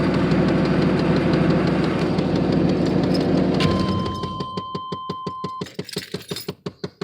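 Big-block 454 V8 in a 1993 Chevrolet Suburban 2500 with an exhaust gasket problem, idling with a loud, steady rumble, then fading into slow, distinct exhaust pulses and chuffs as it winds down, heard up close.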